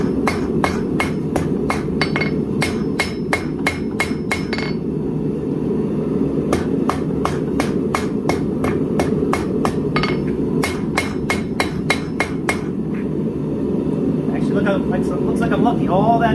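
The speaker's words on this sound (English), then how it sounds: "to get a good tip, take it to the edge of your anvil." Hot steel for a Viking seax is hammered on the edge of an anvil to draw out the blade tip, with loud, sharp ringing strikes in quick regular runs and brief pauses, over a steady low background hum.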